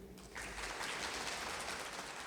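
An audience at a festival opening session in a hall claps together in a steady, dense burst of applause that starts abruptly and holds at an even level, heard from some distance.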